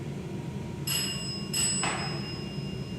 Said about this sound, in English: I'm definitely hearing the bell.